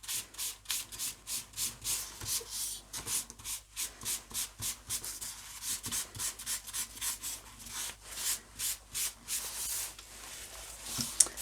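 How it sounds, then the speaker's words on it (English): A sheet of paper is rubbed lightly over a gesso-coated gel print to lift off excess ink. Quiet, steady back-and-forth scratchy strokes repeat in an even rhythm throughout, with no voices. "we can lightly rub that over the surface, and it will just remove some of that excess ink off the top of that gesso"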